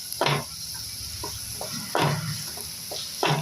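Bitter gourd sautés in oil in a pan, a soft steady sizzle broken by several scraping stirs of a spatula at uneven intervals.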